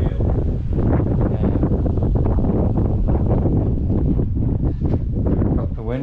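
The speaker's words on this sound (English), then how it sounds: "Got the windows open, you can hear the wind" Wind blows through the open windows of a Jomtien corner condo as a constant, loud, buffeting roar, with some talk mixed in.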